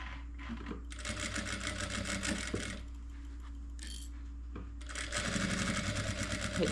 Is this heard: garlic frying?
no